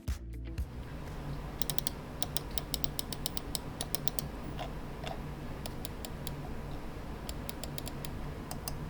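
Quiet, rapid clicking of a Thunderobot Zero75 mechanical keyboard typing steadily, light tapping clicks close by with no talking.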